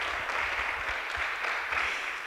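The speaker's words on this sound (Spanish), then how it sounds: "Fuerte aplauso, muchísimas gracias por acompañarnos, Fran." A crowd at an interior-design networking event at Porcelanosa in Castellón gives a sustained round of applause, broad and even, with no voices standing out.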